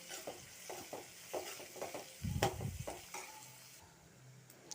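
Onions frying with turmeric powder are stirred in a pan, producing a soft continuous sizzle with faint rhythmic scrapes and one brief louder clatter near the middle, all fairly quiet and close.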